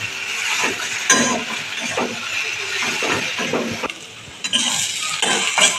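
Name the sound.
mixing fried spice powder into potatoes in a pan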